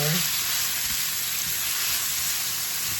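Thin-cut chicken breast fries in a pan for a Jamaican rasta pasta, giving off a steady, dense sizzle that holds evenly throughout, close up and uninterrupted.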